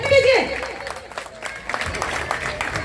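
Applause and crowd noise at a political rally for independent Shahdara candidate Vinay Chaudhary, a brief loud burst at the start settling into steady clapping and murmur, with voices mixed in.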